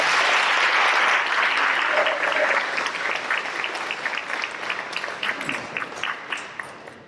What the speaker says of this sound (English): can we have a round of applause for these fantastic students?